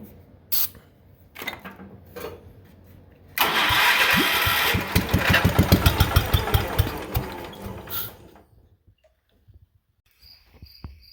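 Cub Cadet lawn tractor engine on ether: a few short cranking bursts, then it catches and runs loud and rough with rapid pulsing for several seconds before cutting out, followed by quiet with insects chirping.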